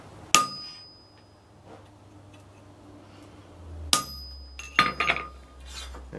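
Blacksmith's hammer strikes a punch to mark hot steel for a bottle opener, one sharp ringing clang, then after a pause a cluster of three or four quick metallic hits with bright ringing tails, near and alone.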